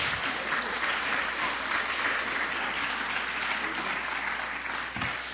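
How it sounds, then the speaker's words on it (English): Audience applause fills a screening reception at the Newark Museum, steady dense clapping sustained throughout with crowd noise and no pause. "Let's give him a round of applause"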